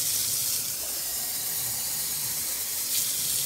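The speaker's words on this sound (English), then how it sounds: "We're going to fill the first one here with regular tap water. We're going to let it run for a second so we can get through the system." Regular tap water runs steadily from a faucet while the line flushes before a container is filled, a constant close hiss and splash with no voices.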